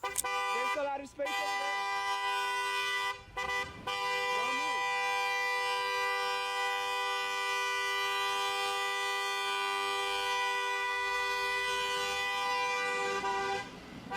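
A car horn blares almost nonstop while one driver tailgates another through a quiet residential neighborhood. The long, loud, droning tone breaks off only briefly twice early on, then holds steadily for about ten seconds.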